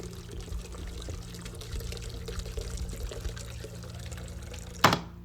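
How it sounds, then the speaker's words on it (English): Water pouring steadily into a container, a faint continuous liquid wash with a low hum beneath, ending in a short louder splash near the end. "Pouring water."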